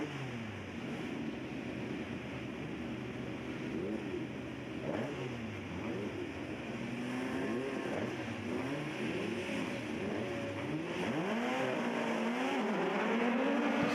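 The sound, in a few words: autograss race cars starting race 2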